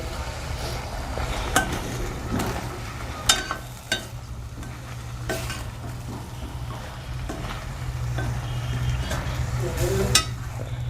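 Raw banana pieces go into hot spiced oil and are stirred, a steady sizzle with scraping stirs and a few sharp clinks of a spoon against the pan, fairly close.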